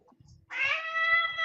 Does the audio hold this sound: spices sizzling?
no